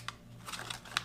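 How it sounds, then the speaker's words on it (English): Package of fruit mix from a German EPA military ration being torn open by hand, a quiet crinkly rip with a couple of sharp crackling bursts over a low steady hum. "let's real quick just rip open our fruit mix."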